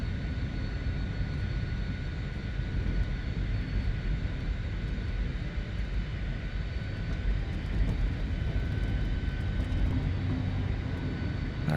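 Aircraft with two big radial engines on descent toward Orlando, a steady, loud, continuous engine drone with a low rumble holding evenly throughout, no voices over it.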